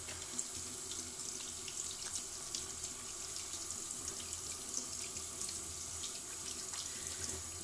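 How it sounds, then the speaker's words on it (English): Hands are washed under a running kitchen tap while cooking, giving a steady, even hiss of flowing water that continues unbroken throughout with no voices. "now I'm gonna quickly wash my hands"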